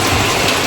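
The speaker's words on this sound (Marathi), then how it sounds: "भयानक पाऊस चालू आहे." Heavy summer downpour in Ahmednagar city pours steadily and loudly, a dense close wash of rain with no voices.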